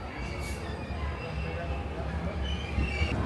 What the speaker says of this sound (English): Okay, we're on the train.